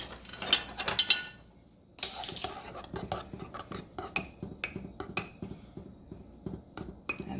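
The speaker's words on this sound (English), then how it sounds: "And then we mix." Wizard's brew ingredients with baking soda and dish soap are stirred in a container, making rapid clinking, scraping and rattling utensil strokes in an uneven rhythm, close and fairly loud with short pauses.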